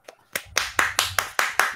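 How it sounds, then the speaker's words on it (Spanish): A small group clapping to welcome a guest on a Spanish-language gaming podcast, a short burst of sharp, evenly spaced claps building from a few scattered hits into a brief steady round, close and alone. "Damos un fuerte aplauso y una calurosa bienvenida al gran Dani Yu"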